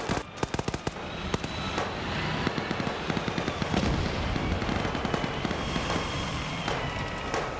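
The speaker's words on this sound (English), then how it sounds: "They're firing HE, which isn't going to penetrate into the barn complex, though" A dense, continuous crackle of gunfire and HE explosions fills a video game battle around a barn complex, with rapid sharp reports and booms layered over a loud, roaring background and no clear talk.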